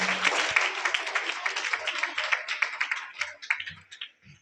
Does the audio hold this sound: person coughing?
no